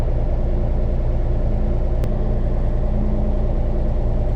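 An LS MT232 tractor diesel idling steadily during a DPF regeneration, a loud, close, even rumble with one brief click partway through.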